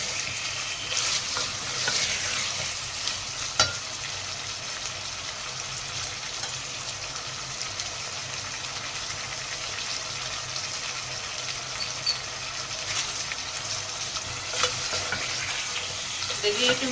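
Tomatoes for potato sabzi fry in a pan, a loud, continuous close sizzle with occasional stirring scrapes and clacks, and no talking.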